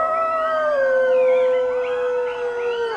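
A red wolf howls in a rising and falling wavering wail, with screeching, coyote-like yapping layered over it, close and loud, heard alone without any talk.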